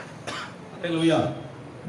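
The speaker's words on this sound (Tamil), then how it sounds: "கொஞ்சம் இருமல் இருக்கு" A man preaching at a Sunday church service gives a short cough, followed by a rougher throat-clearing burst, close to the microphone, with speech around it.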